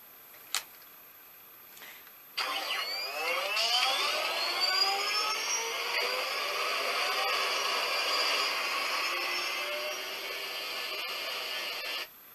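A 2014 Hess toy Space Cruiser plane plays an electronic jet engine sound effect after a click or two, a rising whine that settles into a steady loud roar for about ten seconds before cutting off abruptly.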